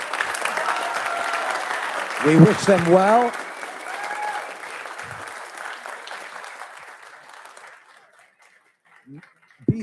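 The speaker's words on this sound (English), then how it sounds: "A special round of applause for our new officers." Applause from a council meeting audience greeting newly installed township council officers, starting loud and thinning out over several seconds, with a speaker's voice briefly heard over it.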